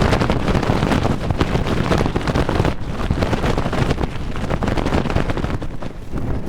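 Strong gusty wind roars across an exposed volcanic mountain ridge in New Zealand, buffeting the microphone in continuous loud blasts with brief dips in force, and no voices are heard.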